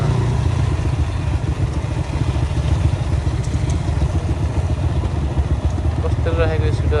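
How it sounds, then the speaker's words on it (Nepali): A scooter engine runs on a dirt track at Jada Monson, a loud, gritty low rumble with a rapid pulsing throb that holds steady, and a voice briefly cuts in near the end. "चलिरहेको स्कुटर"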